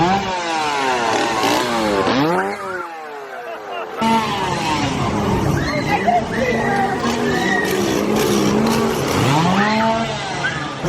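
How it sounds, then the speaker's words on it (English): Chainsaw engines rev and whine in a Halloween Horror Nights scare zone at Universal Orlando, rising and falling pitch sweeps repeating close by, mixed with crowd chatter and voices throughout. "I was about to tell you I hear some chainsaws"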